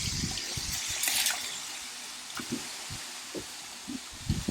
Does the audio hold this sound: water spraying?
yes